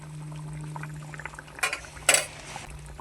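A spoonful of ghee goes into a soybean curry simmering in a pot, with a bubbling, liquid cooking sound and a couple of sharp metal spoon clinks against the pan, close up and with no speech.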